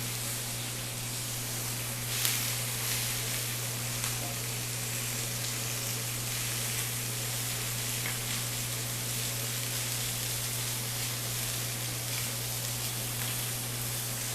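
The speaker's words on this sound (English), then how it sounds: "So I know the chops have been on for a minute." Heritage pork chops sear in a hot pan on medium-high heat, a steady close hiss and crackle of sizzling fat that runs on unbroken with no voices.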